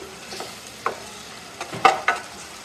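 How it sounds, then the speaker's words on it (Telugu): Half a tablespoon of ginger-garlic paste fries among browned onions for a meal maker curry, a soft sizzle under a few sharp spoon scrapes and taps against the pan. "ఇలా ఫ్రై అయిన ఉల్లిపాయల్లో ఒక హాఫ్ టేబుల్ స్పూన్ అల్లం వెల్లుల్లి పేస్ట్ అయితే వేసుకుంటున్నాను"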